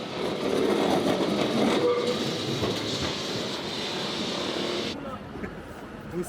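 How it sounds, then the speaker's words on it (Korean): A yellow tram in Lisbon rumbles and clatters along rails in a steady, loud run with faint voices in the background, then the noise drops away near the end. "리스본 하면 노란 트램이 빠질 수 없다"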